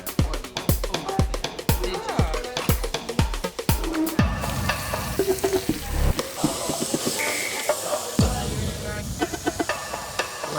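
Food fries in a smoking hot pan with a bright, continuous sizzle. It starts after a series of rhythmic chopping knocks, with occasional clatter as the pan is worked.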